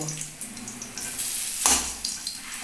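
Garlic fries in hot oil with a soft, continuous sizzle close by, broken by a sudden louder burst of hiss and a clatter of a pan midway.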